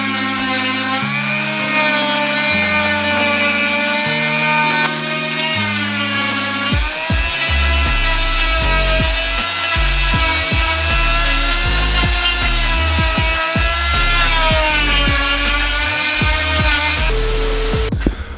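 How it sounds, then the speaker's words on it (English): A Dremel rotary tool with a wand attachment grinds material away during a car gauge install. It whines loud and close, with a steady high pitch whose tone shifts as the bit bites and eases off. "I got my slick new Dremel with the wand attachment, which is super dope. So, got it here. And then we're just gonna grind that away."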